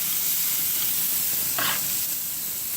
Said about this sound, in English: you can hear the sizzle, and that's the nice sound we like, is the sizzle